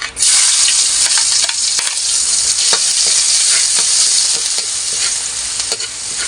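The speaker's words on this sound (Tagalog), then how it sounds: "Maggisa na tayo ng mga pansahog. At as usual, unahin natin si bawang." Garlic sautéing in hot oil in a pan, a loud close continuous sizzle with scattered stirring clicks and scrapes, no talking.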